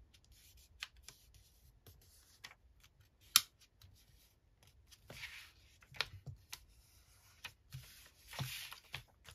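Paper being folded and creased by hand: soft rustles, scrapes and crinkles, with one sharper crisp snap, all close and quiet with no talk.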